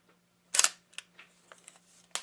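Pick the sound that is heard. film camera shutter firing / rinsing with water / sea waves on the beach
film camera shutter firing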